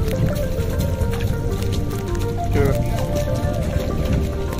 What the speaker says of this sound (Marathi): कवटांची कुर्ली पाण्यामध्ये धुवून दाखवतो